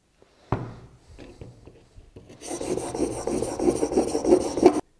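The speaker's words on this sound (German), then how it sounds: "Man sieht, die Schneide ist jetzt hier vorne geschliffen." A cheap chisel is honed on a water stone, a steady rasping rub that starts after a few scattered scrapes and knocks, close and fairly loud, running continuously for a couple of seconds with no talk.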